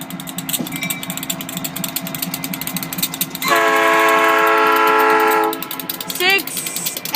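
A Norfolk Southern freight train, locomotives 6801 and 2547, passes close by with a loud, steady rumble and rhythmic metallic clatter lasting about two seconds, then fading as a brief horn-like chirp sounds; faint voices murmur in the background.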